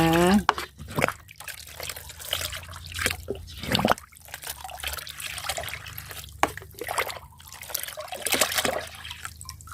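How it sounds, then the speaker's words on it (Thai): A fermented liquid fertilizer made from spoiled rice is stirred by hand, with wet sloshing, dripping and trickling in uneven bursts close by and a voice briefly at the start. "แล้วเราก็คนผสมให้เข้ากันเลยนะคะ"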